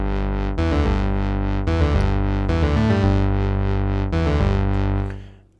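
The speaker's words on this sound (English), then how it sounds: "So what I do here is have a very repetitive bass, but with an off sync time." A repetitive bass line in 13/8 time from an indie game song, a loud, distorted, effect-laden synth-like tone repeating an uneven pattern for several seconds before fading out, with no talking.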